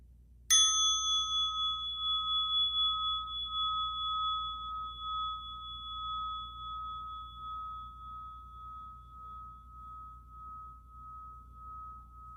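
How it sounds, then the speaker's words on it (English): A single meditation bell struck once, its clear ringing tone rising sharply and then sustaining a long, slowly fading decay for over ten seconds in a quiet room, with no voices. "when you hear the bell, you open your eyes again"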